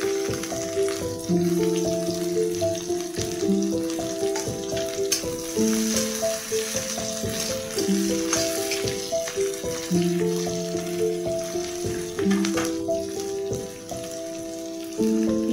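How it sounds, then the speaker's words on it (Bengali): Chopped onion sizzles in a pan with a continuous hissing crackle, partly masked by steady melodic background music playing throughout. "পেঁয়াজটা একটু ভাজা হবে"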